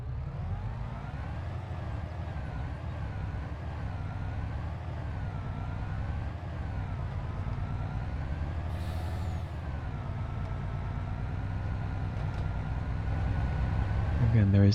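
A MAN truck engine in Farming Simulator 22 runs as a steady, loud diesel drone for the whole stretch, with a brief air-brake hiss partway through and a louder rise at the end.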